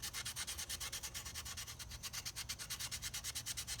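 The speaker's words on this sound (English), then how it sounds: "See how it works in there really well, this special little contour sander." Small contour sander working over the carved details of a walking stick, a rapid steady rasping scrub in quick back-and-forth strokes, close and fairly quiet, with no talking.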